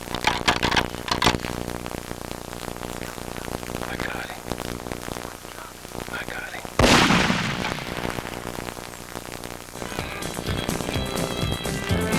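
A single sharp rifle shot at a whitetail buck during a Texas hunt cracks loudly midway and trails off in a rumbling echo, amid rustling and brushy outdoor noise.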